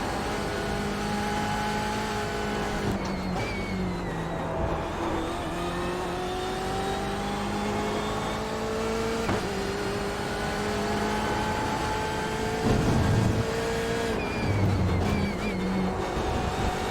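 A BMW M8 race car laps Road Atlanta in the iRacing sim, its engine revving hard and continuously, pitch climbing through gears with brief drops at shifts and braking, loud and up front.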